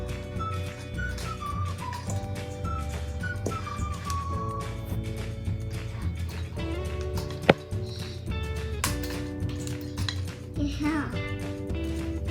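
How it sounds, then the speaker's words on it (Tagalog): Cashew banana bread batter is mixed in a bowl, giving soft repeated clinks and scrapes of a utensil against the bowl beneath ongoing chatter and background music, with one sharper knock partway through. "Yeah, you mix it together, okay?"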